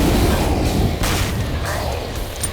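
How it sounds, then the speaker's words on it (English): A rocket explosion lands close behind the player in the video game Killing Floor, a loud booming blast with rumbling aftermath and scattered gunfire-like bursts. "Now that rocket landed behind me"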